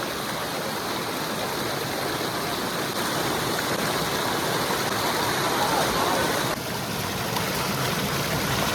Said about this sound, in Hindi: यहाँ पे ना एक साइड नदी है